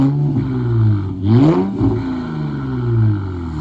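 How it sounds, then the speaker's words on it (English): A straight-piped Infiniti Q50 engine revs loudly up close, climbing in pitch to a sharp peak and dropping back to a rumbling idle between blips, outdoors in cool, windy weather. "give you guys a couple revs"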